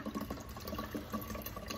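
Water pours steadily into a big orange compression sprayer, a faint, close, continuous splashing trickle with nobody speaking.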